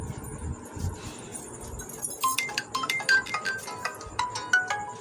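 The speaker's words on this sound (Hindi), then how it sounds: "फ़ोन पे फ़ोन आ रहे हैं। मैं पहले फ़ोन उठा लूँ, मम्मी की कॉल है।" A mobile phone ringtone for an incoming call comes in partway through as a string of bright, chiming melodic notes over quiet room rustle.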